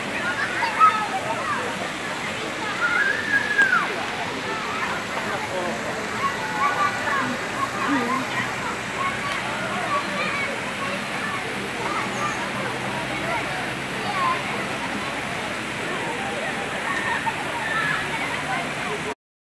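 Rushing river water flowing steadily through a valley during a family outing with children, a continuous broad wash of sound with splashing and gurgling, heard at moderate distance without talk.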